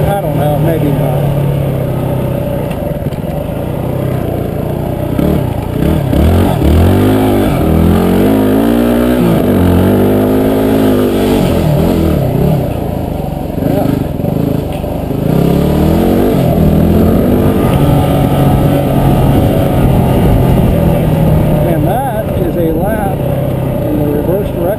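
Yamaha WR250R dual sport motorcycle engine revving and rising in pitch through repeated accelerations on a motocross track, loud and close with constant wind buffeting over the engine note.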